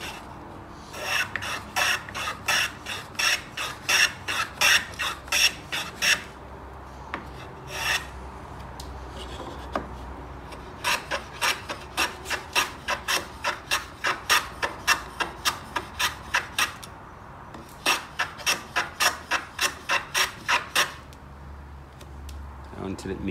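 A hand plane shaves along the long edges of a wooden board in quick, rasping strokes that come in repeated bursts, with short pauses between runs of strokes.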